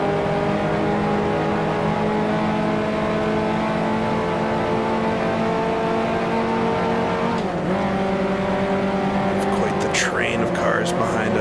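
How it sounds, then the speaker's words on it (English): Race car engine accelerating hard up through the gears toward a corner, a loud, steady, close onboard drone with pitch shifts at each change, a voice talking over it. "on through the gears for Lasource. Be careful not to miss one."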